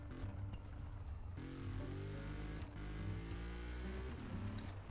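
A Mercedes G63 drifting in a video game on a winter track, its engine droning steadily with rising and falling revving tones, close and continuous at low volume.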